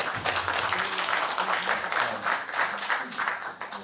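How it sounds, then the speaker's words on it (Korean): Audience applause at a Korean environmental forum on the Four Rivers project, as a foundation chairman is welcomed; steady, dense clapping fills the room from start to finish, with some faint voices mixed underneath. "박수 좀 부탁드리겠습니다."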